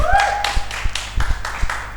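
Audience clapping for a guest at a talk show, a short burst of scattered hand claps and taps with a brief tonal squeak at the start, close and moderately loud.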